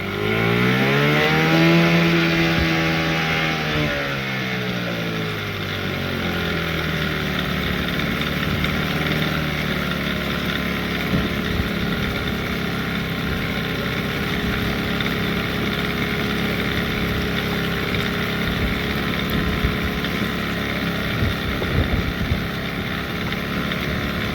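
A 15hp Evinrude outboard boat motor runs, revving up and settling back at the start, then holding a steady, loud idle drone with a constant rattle for the rest of the clip.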